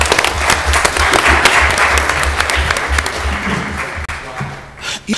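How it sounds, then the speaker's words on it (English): An audience at a Mobile, Alabama city council meeting gives a big round of applause, a loud, dense wash of clapping that holds steady, then thins and fades near the end. "Let's give them another big round of applause"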